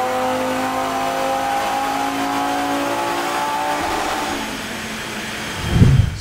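An Audi RS3 engine revving hard on a baseline dyno run gives a loud, sustained mechanical drone with steady, rising harmonics. It ends with a sudden low, heavy burst, and no one speaks.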